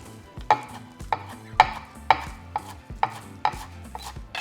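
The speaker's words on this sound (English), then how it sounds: "And now we're chopping our cilantro." A knife chops cilantro on a cutting board in a steady rhythm, about two crisp strikes per second, close and without talk.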